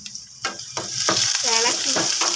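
Garlic hits a hot pan and sizzles, with a few stirring scrapes and crackles over a steady frying hiss that grows louder and fuller after the first second.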